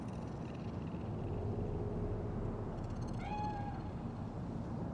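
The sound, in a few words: cat meowing in Cyberpunk 2077 video game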